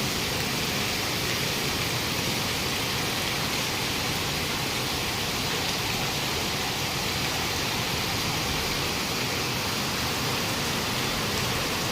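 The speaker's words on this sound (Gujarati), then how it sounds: "કેવો વરસાદ આવે છે" Steady heavy rain falls outside where water has collected on the ground, producing a constant loud wash of hissing noise throughout with no talking.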